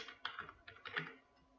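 Quick, faint keystrokes on a computer keyboard, a short burst of several light clicks in irregular rhythm that trails off.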